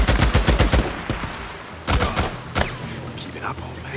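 Gunfire in the action game Days Gone: a rapid burst of close, loud shots opens, then a few single heavy shots follow, with characters talking in between.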